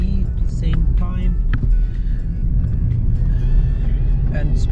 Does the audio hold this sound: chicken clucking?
no